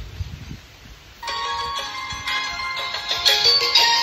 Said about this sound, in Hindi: ए पार्सल वाला फोन है दे